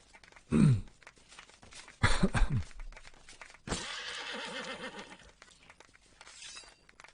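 Loud, harsh bursts with a crashing, shattering quality, followed by a long wavering whinny-like horse cry that trails off, in the video game Mortal Online 2; close and fairly loud with no talking.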